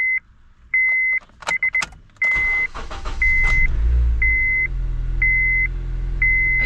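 A turbo project car with 91,500 miles on it cranks and starts as a warning chime beeps repeatedly, then settles into a steady low idle that continues under the ongoing beeps.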